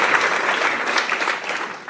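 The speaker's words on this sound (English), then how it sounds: "Let's have a round of applause for him" A live audience at a teachers' keynote event applauds, dense steady clapping from many hands for about two seconds, loud and close, with no talking over it.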